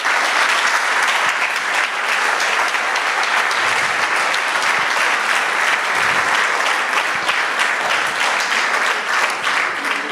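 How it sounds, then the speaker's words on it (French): An audience applauds pastry students who passed their CAP, giving loud, sustained, dense clapping that fills the room throughout, with faint voices underneath. "on peut les applaudir, ils peuvent se lever, on peut les applaudir."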